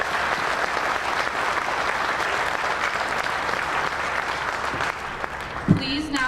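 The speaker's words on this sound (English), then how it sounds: "One last round of applause for all of our service members here tonight." A crowd under a tent applauds service members at a Proud American Days military tribute: a steady, full wash of clapping that holds level, with a single dull thump near the end.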